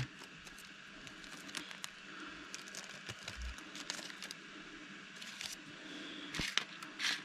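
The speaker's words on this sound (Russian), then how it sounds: "Один пакетик высыпаем." Small hard RFID transponder chips patter and rattle as they spill out of a crinkly plastic packet, a quick scattered clatter over a few seconds with soft rustling.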